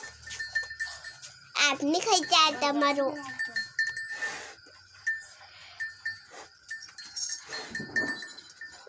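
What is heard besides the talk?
goat bleating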